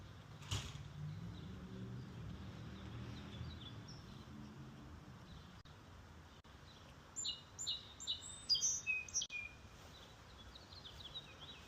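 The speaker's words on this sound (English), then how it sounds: "you could hear the birds chirping." Small birds chirp in a backyard, with a few faint calls early on and a brighter run of close, high tweets toward the end, over a soft, low background hum.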